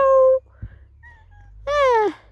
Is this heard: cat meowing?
yes